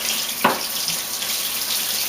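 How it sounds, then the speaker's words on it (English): Hot water runs steadily from a kitchen tap into a bowl, a close, continuous hiss and splash with one brief knock early on and no talking. "I'm going to take 9 ounces of water, as hot as you can, out of the tap"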